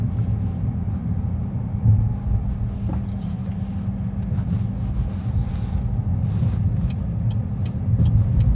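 A 2025 BYD Dolphin Surf Comfort electric car cruising quietly, heard from inside as a steady low road and tyre rumble with faint wind noise and no voices.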